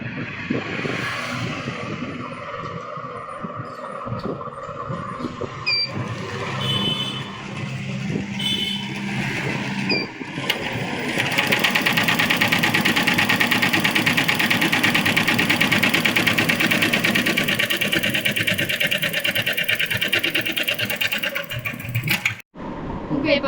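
A computer embroidery machine stitches a blouse design, running as a steady mechanical whir and rapid rhythmic chatter that grows louder and denser partway through, with a voice talking over it.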